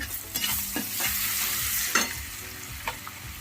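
Onions and ginger pieces sizzle steadily in hot oil in a pan, with several sharp stirring scrapes and clinks cutting through the continuous frying hiss; no voices.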